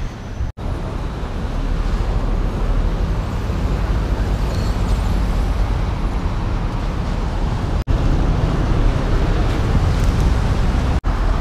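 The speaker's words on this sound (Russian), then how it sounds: "Самая настоящая тихоокеанская волна." Pacific Ocean surf breaking steadily on a Mazatlán beach, Mexico, a loud continuous wash and roar with no clear gaps, heard alone without voices.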